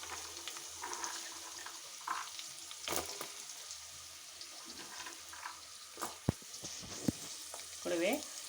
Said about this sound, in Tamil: கூடவே ஒரு கைப்பிடி அளவுக்கு பூண்டு சேர்த்து நல்லா வதக்கிடலாம்.